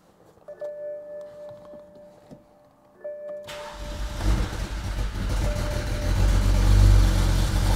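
A BMW 135i with a single-turbo N54 engine sputters and catches at about three and a half seconds, then settles into a loud, rough, steadily building idle. Quieter mechanical noises and a faint tone come before it fires.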